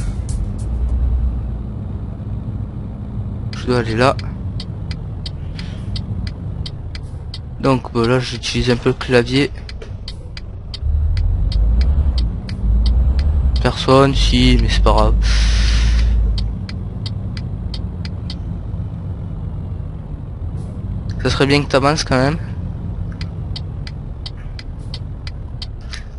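Simulated truck engine from Euro Truck Simulator 2 runs as a steady low drone throughout, with a person talking over it at intervals.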